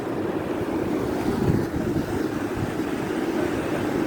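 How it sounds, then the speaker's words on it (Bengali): Sea waves wash up on a sandy beach, a steady broadband roar of surf with gusting wind buffeting the microphone, continuous and fairly loud with no voices. "পানি এই যে সাগর"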